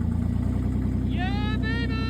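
A 3-litre V6 fitted to a rear-wheel-drive Vauxhall Corsa runs with a loud, rhythmic, throbbing idle, and a voice rises over the engine partway through.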